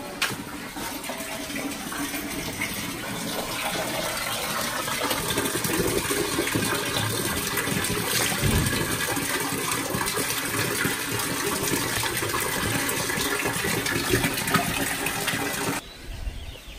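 Running water rinsing dirt off a whole squash (ayote), a steady splashing gush that swells slightly midway and stops abruptly near the end, close and alone.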